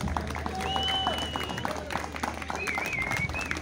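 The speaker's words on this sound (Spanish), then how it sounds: "¡Échale un aplauso," Crowd applause at a rodeo bull-riding event, scattered clapping and crowd noise mixed with voices and whistles, moderately loud and continuous over a low steady hum.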